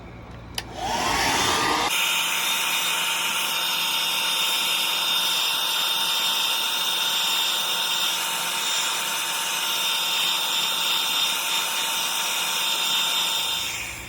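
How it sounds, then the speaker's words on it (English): A hair dryer, used to dry paint on a striped bass swimbait, switches on after a brief click and runs at a loud, steady whine with a constant airy rush for the rest of the clip. "Now I'm going to hit them with the hair dryer"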